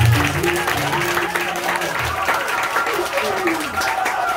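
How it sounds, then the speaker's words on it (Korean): A concert hall audience claps for a band's drummer during a solo show, steady dense applause that fills the room throughout, with a voice and some tonal sound running underneath. "여러분들 큰 박수 부탁드립니다"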